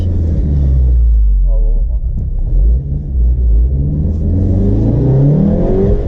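A Volkswagen Golf 7R accelerates on a night drive, its engine rumbling and revving loudly from inside the cabin, with rising and falling pitch as it pulls through gears; a voice speaks briefly over it.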